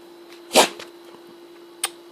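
A sleeping dachshund gives one sharp, close sneeze followed by a faint second snort about a second later, over a quiet room with a low steady hum.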